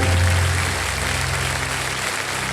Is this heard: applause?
yes